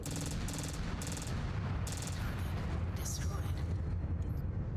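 Heavy ballistic weapons from a Dire Wolf mech pound an Atlas in Mechwarrior 5 Clans, a dense continuous barrage of booming shots with rapid bursts of cannon fire layered over a low rumbling battle din, loud and close.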